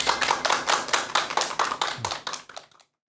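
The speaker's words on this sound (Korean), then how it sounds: "큰 박수 부탁드립니다." A lecture audience bursts into applause to welcome a speaker, a dense wash of clapping that holds steady and then thins out and stops near the end.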